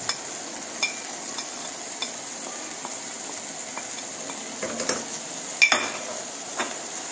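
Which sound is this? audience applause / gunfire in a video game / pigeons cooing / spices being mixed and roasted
spices being mixed and roasted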